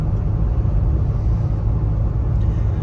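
A Ford Expedition with the 3.5 EcoBoost engine hauls a 5,900 lb equipment trailer uphill, producing a steady, loud low engine drone and road rumble with no distinct breaks.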